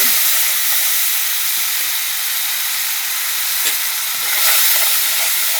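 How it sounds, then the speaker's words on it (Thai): Chili and garlic frying in hot oil in a pan make a loud, steady, broadband sizzle that hisses continuously throughout. "ตั้งกระทะใส่น้ำมันลงไปแล้วก็ใส่พริกลงไปเลย"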